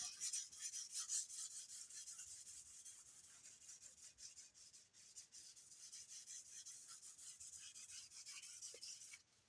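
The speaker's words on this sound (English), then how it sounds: "now I need to deburr the edge from where I just scraped it with a little bit of 2000" Fine 2000-grit sandpaper is rubbed along a guitar edge to deburr it after scraping, lifting stray bits of tape, making a soft, steady, close rubbing hiss that stays quiet throughout.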